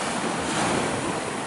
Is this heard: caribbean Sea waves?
yes